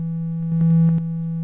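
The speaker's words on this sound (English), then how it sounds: "You can hear the distortion." A steady, buzzy synthesizer tone holds throughout, swelling briefly into a harsher, distorted resonant growl midway before settling back to the plain tone.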